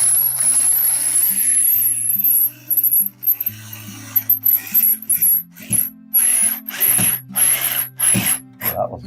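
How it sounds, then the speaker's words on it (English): Flathead screws being driven into electrical wall plates, a steady whirring tool with rattling, ratchet-like clicks that stops and restarts in short bursts, loud and close, with no talk. "putting flathead screws on these wall plates"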